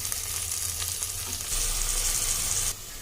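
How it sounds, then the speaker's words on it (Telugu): Ground masala paste fries in oil inside a pressure cooker, a dense continuous sizzle with soft stirring scrapes that grows louder midway before easing slightly. "ఈ మసాలా ముద్దని పచ్చివాసన పోయే వరకు వేపుదాం"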